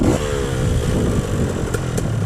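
A two-stroke dirt motorcycle revs hard climbing a sandy hill, its buzzing engine loud and close with rapid throttle changes over about two seconds.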